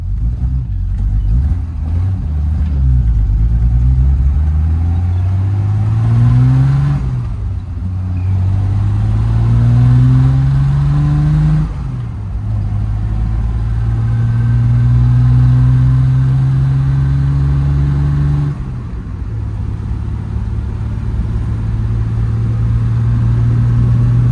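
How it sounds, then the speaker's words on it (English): Car engine on a test drive while checking an overdrive fault, steady mid-pitched engine drone that repeatedly rises as it accelerates and drops at gear changes, close and continuous with no talk. "we should go for a test drive now"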